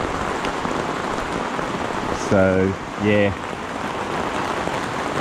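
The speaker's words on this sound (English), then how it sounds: "that's the swag in the rain." Water sprayed onto a Dune 4WD King Titan Deluxe Double canvas swag with vinyl flooring patters steadily like rain throughout, with a voice speaking briefly partway through.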